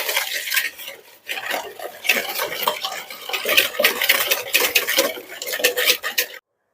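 Eggs and sugar are whisked briskly in a bowl, the whisk clicking and scraping rapidly against the sides in close, continuous bursts, pausing briefly once, then stopping abruptly.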